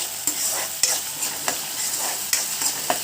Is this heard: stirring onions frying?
yes